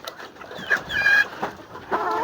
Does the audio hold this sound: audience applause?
no